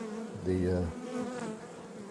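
A low, steady buzz of many honeybees in a hive hums throughout, with one close bee droning louder for a moment before fading back into the swarm.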